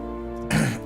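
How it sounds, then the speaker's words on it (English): A single harsh cough bursts out after a stretch of steady low game-like hum, followed by a short second rasp at the end, close and fairly loud. "Cannot get rid of this cough today."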